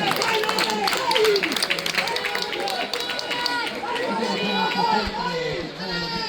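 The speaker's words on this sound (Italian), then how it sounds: "ultimi 100 metri a ricevere l'applauso di incoraggiamento, l'applauso di sostenere" Spectators at an athletics meet in Rodengo Saiano cheer, shout and clap for runners in the closing metres of a men's 800m heat, a busy crowd roar with scattered applause and some announcer-like talk.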